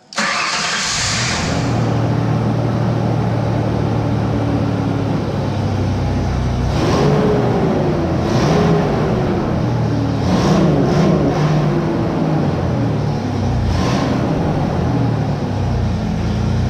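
A Ford Ranger engine fitted with an underdrive pulley starts up and settles into a loud, steady run with a few throttle blips rising and falling, close by, with no talking over it.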